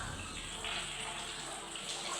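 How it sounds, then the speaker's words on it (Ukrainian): Water pours steadily from a broken tap in a run-down university dormitory in Kyiv, a constant rushing splash that is fairly faint and heard alone. "Кран лється якийсь, який не працює вже давно. З якого лється вода."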